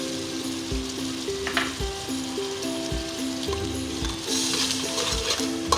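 About a quarter kilo of yogurt hitting hot oil for beef yakhni pulao, producing a continuous loud sizzle and hiss with a few spattering crackles, heard under steady tonal background music.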